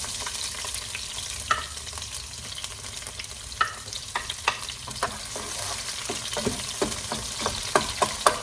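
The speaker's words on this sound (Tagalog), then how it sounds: "magigisa tayo ng bawang. Unahin natin yung bawang. At sibuyas." Garlic and onion sautéing in a pan, an even sizzle broken by frequent scraping and clacking stirring strokes that grow busier toward the end, close up with no talking.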